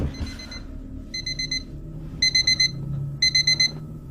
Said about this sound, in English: The constant alarm beeps that follow build tension.